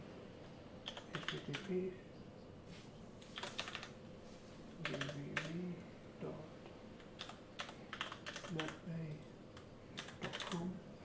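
Bursts of fast keystrokes on a computer keyboard come in clustered runs with short pauses, close and clear, while people talk quietly over them.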